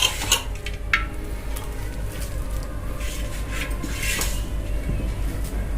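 A ladle stirs chicken haleem in a metal pot, making scattered scraping clinks and knocks against the pot over a low steady background, fairly close.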